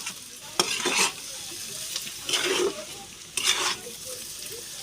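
Garam masala stirred into a sizzling frying pan, three separate bursts of scraping and frying as a spoon works through the mixture, with light metallic clinks between strokes.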